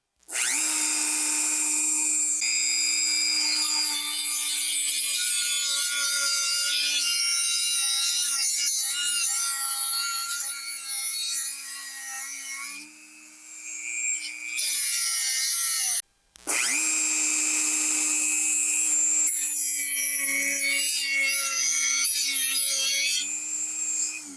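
A power tool grinds steadily through the metal gearbox of a Carrera Digital 124 Brabham BT44B model car, a loud, close, sustained whine that dips briefly and cuts out for a moment before resuming, with no talking over it.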